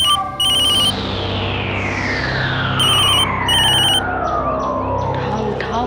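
A ringing phone sounds in bursts of electronic trills between sweeping tones and background music in a Hindi TV drama scene, loud and repeated.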